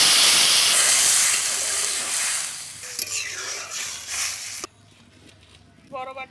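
Water poured onto masoor lentils frying with turmeric sets off a loud, sustained sizzling hiss that fades, then cuts out, followed by a few faint clinks and a brief rattle.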